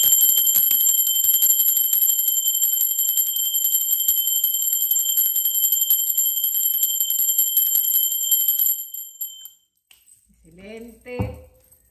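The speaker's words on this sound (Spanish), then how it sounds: "Así que va campana." A bell rings continuously in a rapid, shimmering trill for several seconds, then stops, followed by a short vocal sound.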